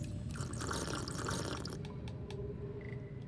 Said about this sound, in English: let's drink some pea water real quick